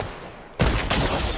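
A sudden loud sniper blast in Fortnite, followed by a second sharp report and a noisy burst that rings on briefly over quiet game background.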